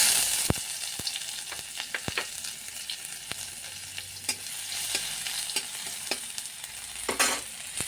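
Garlic and a dried red chili sizzle steadily in hot oil, with scattered crackles and pops and a brief louder stir partway through; no voices.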